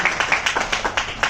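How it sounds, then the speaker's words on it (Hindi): An audience at a religious honoring ceremony claps in a quick, uneven burst of about a dozen distinct claps over little more than a second, close and fairly loud. "तालियां बजा दीजिए"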